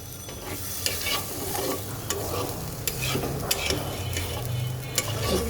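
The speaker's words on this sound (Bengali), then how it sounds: "এইবার মিক্স করে দিলাম এখন আরেকটু এটাকে কষাবো" Chicken for biryani is stirred and sautéed in a hot pan with a little added water: a continuous close sizzle broken by regular scraping and clicking strokes of a utensil, with no voices.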